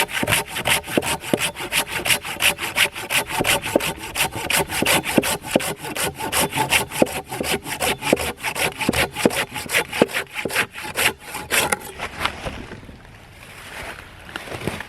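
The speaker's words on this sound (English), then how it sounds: "Now that is pretty incredible for a portable handsaw." A portable handsaw cuts through a large, hard piece of oak in fast, steady back-and-forth strokes, close and rasping, continuing for several seconds before the strokes stop and it goes quiet.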